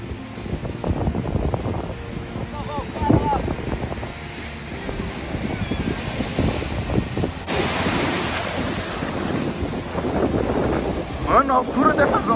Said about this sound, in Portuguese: Na altura dessas ondas